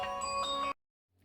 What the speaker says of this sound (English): Hang on a sec, the phone's ringing.